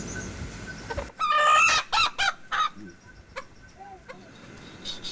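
A rooster crows in a few loud, harsh bursts up close, followed by softer scattered clucks and outdoor background noise.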